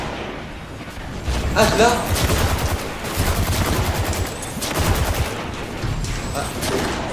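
Gunfire in the video game Destiny 2: rapid bursts of shots repeating through the clip, loud and sustained, with a voice speaking over the shooting.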